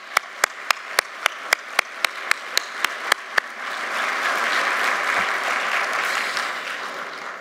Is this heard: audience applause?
yes